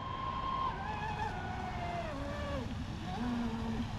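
A new fast boat speeds across the water, its motor a whining tone that slides down in pitch and recedes, then rises again, over a constant rushing wash.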